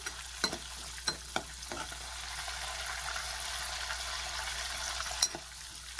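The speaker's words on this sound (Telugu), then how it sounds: "ఇదైతే బాగా ఫ్రై అవ్వాలి" Food fries in a pan, a quiet, continuous low sizzle with a handful of sharp clicks and taps from the spoon scattered through it.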